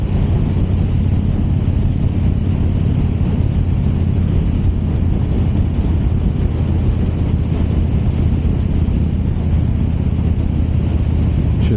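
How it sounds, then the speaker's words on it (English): A car drives slowly along a road, heard as a loud, constant low rumble of engine and road noise that continues without a break for about twelve seconds. "Now this car's going kind of slow."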